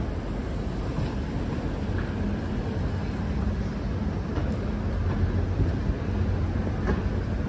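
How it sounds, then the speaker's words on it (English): Steady low rumble of a New York City subway station at 5th Avenue/53rd Street, served by E and F trains, with broad rail noise and roar filling the space and no clear voices. "This is the 5th Avenue, West or East 53rd Street subway station."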